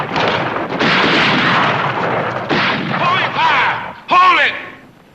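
Gunfire during a shootout in a western TV series, dense continuous bursts of shots and booms filling the scene, with a sharper loud report near the end and voices faintly under it.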